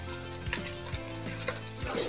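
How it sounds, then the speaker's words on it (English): Green onions and a quarter of a medium white onion land in an already hot pan, giving a steady close sizzle with light stirring and a few pan knocks, growing louder near the end; no one talks. "as you can hear, it sizzles, it's already hot"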